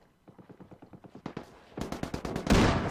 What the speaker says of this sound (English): I'm getting suppressed all the time by that sniper